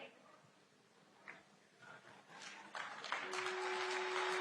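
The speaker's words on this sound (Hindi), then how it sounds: "साथियों, तालियों की गड़गड़ाहट रुकनी नहीं चाहिए।" Audience applause at a semiconductor unit foundation stone ceremony, faint and scattered at first, then swelling into fuller clapping over the last second and a half, with a steady tone running beneath it.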